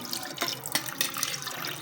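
Water pours steadily into a pot of chicken biryani for basmati rice, a close, continuous splashing stream with a light bubbling texture.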